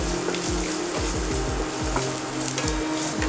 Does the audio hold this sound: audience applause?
no